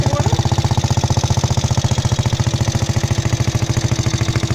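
A restored BMW R20 motorcycle's single-cylinder engine idles loud and close with a steady, even chugging beat that keeps going with no pauses.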